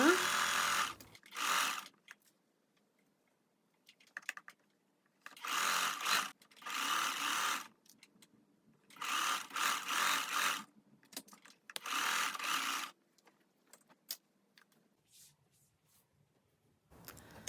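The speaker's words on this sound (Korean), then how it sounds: "스커트와 몸판의 연결 부위를 박아줍니다." Bursts of fast, steady machine whirring from a sewing machine stitching the skirt of a linen dress onto its bodice. Several separate runs of about a second each are split by quiet pauses and faint handling.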